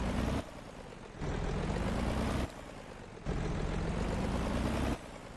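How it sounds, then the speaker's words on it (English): Truck engine in the Motor Town driving game, a constant low mechanical rumble that rises and falls in level in alternating blocks, alone and without any talk. "they must have changed engine sounds, because the engines don't sound the same like they used to anymore"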